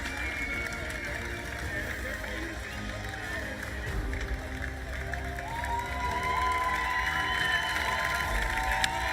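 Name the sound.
crowd cheering for Turkey at opening ceremony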